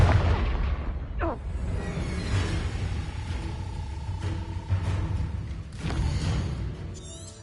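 A Confringo blasting curse goes off in Hogwarts Legacy with a short, sharp burst near the start, followed by a rumbling, crackling explosion and scattered debris. A second, smaller burst comes later, over a low continuous background.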